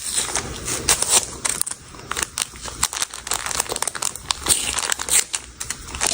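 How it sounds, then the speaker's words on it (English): Tape and sublimation vinyl peeled off a shirt after cooling, making close, fairly loud crinkling and tearing rustles in rapid irregular bursts throughout. "We're gonna go ahead and remove the tape and the vinyl."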